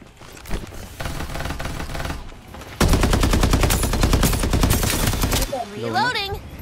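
Assault rifle fire from an AK-77 in the game Farlight 84: sustained rapid automatic bursts, loud and close, with a brief pause between strings and a short spoken interjection at the end.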